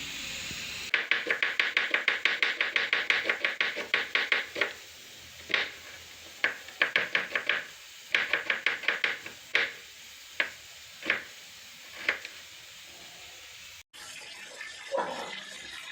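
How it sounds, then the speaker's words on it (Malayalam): Ginger and garlic are pounded into a paste with sharp, hard strikes, first in quick rhythmic bursts and then as slower single blows spaced a second or so apart, close and fairly loud. "അമ്മ ഇഞ്ചിയും വെളുത്തുള്ളിയും പേസ്റ്റ് ആക്കുന്നുണ്ടേ, ഇത് കുത്തി പൊടിക്കുന്നുണ്ട്"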